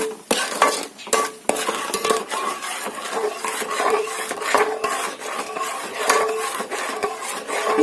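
Pineapple jam stirred in a pan over a medium flame, a spoon scraping and clinking against the pan in a steady repeated rhythm over a soft sizzle, close and clear with no talking.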